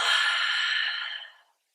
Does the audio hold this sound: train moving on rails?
no